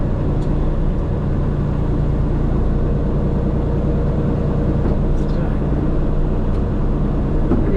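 A snow blower runs steadily over a gravel surface, its engine and auger making a loud, continuous, unbroken mechanical roar from start to finish.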